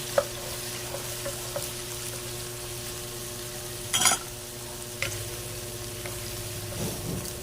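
Pork spare ribs with sautéed onion and garlic softening in a pan, a steady sizzle with spoon scrapes and one louder clatter of stirring, no talk.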